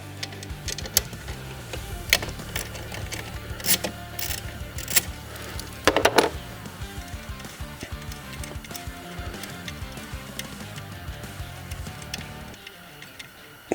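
A 10mm ratchet works a terminal nut on a Ram 2500, a run of quick close clicking ticks in uneven bursts with metallic taps, then a quieter stretch, and no voices.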